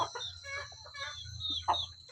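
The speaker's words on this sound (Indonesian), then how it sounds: "Saya sedang memberi pakan ayam kampung, walaupun pakan seadanya seperti nasi ini" Free-range village chickens cluck busily while being fed rice in their pen, a close cluster of overlapping clucks and short calls above a low steady hum, with no talking.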